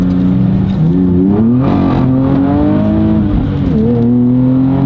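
A modified 2023 Nissan Z sports car with full bolt-ons and over 500 hp revs hard and accelerates, its loud, close engine note climbing through rising pitch sweeps and gear changes, running continuously with no talk.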